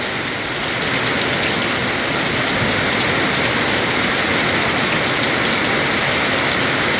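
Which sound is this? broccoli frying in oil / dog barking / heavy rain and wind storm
heavy rain and wind storm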